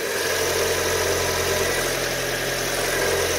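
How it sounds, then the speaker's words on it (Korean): A 2012 Kia K5 hybrid's gasoline engine idles with the hood open, a steady close hum with even mechanical vibration running throughout with no voices. "이제 이 차량 앞으로 나가서 이 차량의 엔진 소리 한번 들려드리면서 총정리 한번 해드릴게요"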